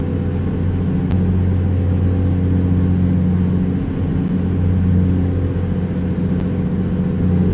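Heavy truck engine droning steadily in top gear at near highway speed in American Truck Simulator, a loud, constant low rumble with layered harmonic hum and no breaks, carrying on alone without talk.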